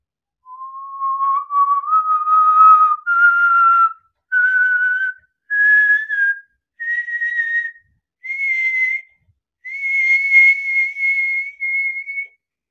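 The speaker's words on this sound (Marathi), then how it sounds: "bottom lip whistle" A man whistles with the bottom lip, climbing step by step through the Indian classical scale sa re ga ma pa dha ni sa, each clear, sustained note separated by short pauses and rising higher, solo and close.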